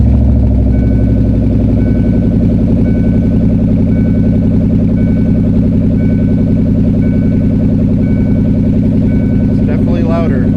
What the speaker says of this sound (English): We're gonna hear the exhaust.